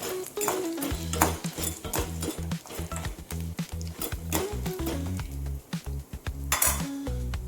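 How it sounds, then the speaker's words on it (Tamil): Urad dal, chana dal and dried chillies are dry-roasted in a pan on a low flame, with scraping stirs, light clatter and a soft sizzle running under a steady tonal background. "லோ ஃப்ளேமில் வச்சுக்கிட்டு வறுத்துக்குவோம் உளுந்து கடலை தான் செவக்கிற வரைக்கும் வறுத்துக்குவோம்"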